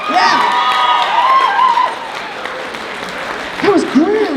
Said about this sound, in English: Give her another round of applause as she leaves the stage